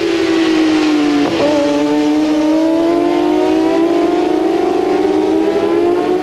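Race cars compete at a Belcar race, with loud engines howling and rising in pitch as they accelerate past, plus a brief sharp burst around one and a half seconds and a sustained high whine after it.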